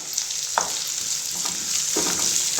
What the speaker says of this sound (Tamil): ஒரு பெரிய சைஸ் வெங்காயம் இந்த மாதிரி பொடியா நறுக்கினதை சேர்த்துட்டு நல்லா வதக்கிக்கலாம்.